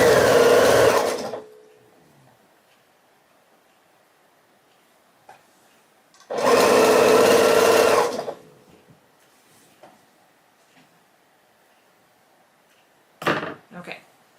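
A sewing machine stitching a quilt star block runs in two fast, loud bursts of rapid needle chatter separated by quiet handling clicks, with a short third burst near the end.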